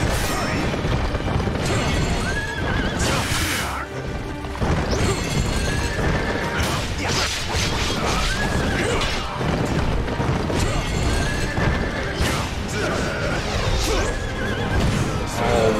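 Horses whinny repeatedly over a dense, loud soundtrack in the game Wo Long: Fallen Dynasty, with pounding hooves and crashing effects throughout.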